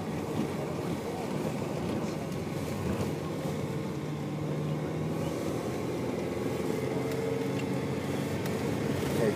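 A Saab car drives along with a steady engine drone and road rumble from inside the cabin, holding an even level throughout as it shifts into second gear, with no talking.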